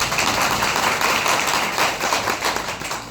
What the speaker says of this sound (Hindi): इसके लिए जोरदार ताली बजाइए